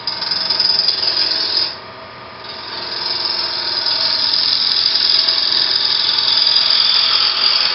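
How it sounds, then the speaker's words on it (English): A lathe spinning at high speed while cutting a small-diameter sphere gives a steady, loud whirring hiss with scraping tool contact throughout. It dips briefly in the middle before resuming at the same level. "if you can run the lathe at fairly higher speeds than you might typically run"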